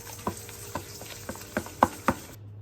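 Panko breadcrumbs with seasoning, salt, pepper, garlic and butter are mixed in a bowl, giving a series of soft scraping, clinking strokes at an uneven, steady pace, close by.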